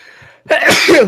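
A single loud, close sneeze bursts out after a brief quiet pause during a live stream conversation, a sharp explosive blast trailing into breathy noise.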